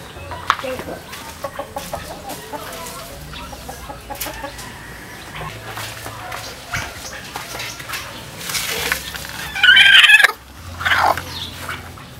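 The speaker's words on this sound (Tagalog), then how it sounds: "Ito po yung Black Axolotl na inahin na naglilimlim kahit na wala naman siyang nilalabas na itlog." A broody Black Axolotl hen clucks in a backyard, soft intermittent clucks with a louder burst of calls near the end, amid other nearby chickens and light background noise.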